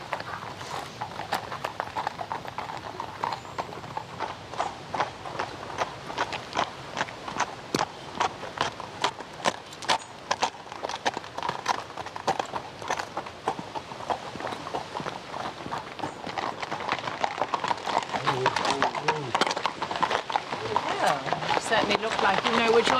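Hooves of a well-schooled show horse clip-clop steadily in a brisk, regular rhythm, close and clear throughout, with people talking over the hoofbeats.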